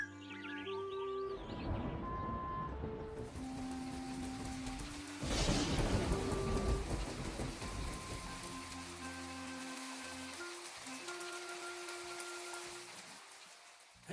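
Steady rain pours throughout a played educational video, with a low rumble of thunder midway, beneath a soft musical melody and no voices.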